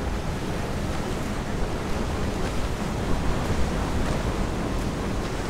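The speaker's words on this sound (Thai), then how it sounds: "โอ้ยทำไมคลื่นพายุแรงวะตรงนี้" Storm waves at sea in Assassin's Creed Rogue roar as a loud, dense, unbroken rush of surf and wind, with no voices over it.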